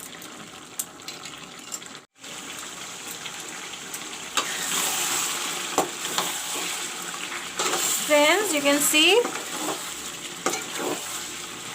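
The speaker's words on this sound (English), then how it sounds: "the chicken and the potato and the onions all fried up, and the potatoes also are cooked up" Chicken pieces, potatoes and onions fry in a pan for a dry chicken curry, giving a steady close sizzle with stirring scrapes and a brief squeaky rattle near the end, while a voice talks briefly over it.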